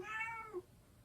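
A house cat gives a single short meow up close, tapering off quickly into a quiet room.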